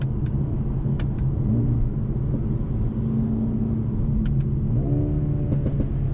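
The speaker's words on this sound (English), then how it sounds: "one of the coolest things is the noise you get from that exhaust." A 2020 Mercedes-AMG CLA35 engine rumbles steadily, with a couple of sharp exhaust pops and a brief rev climbing near the end.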